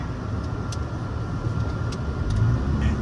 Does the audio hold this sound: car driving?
yes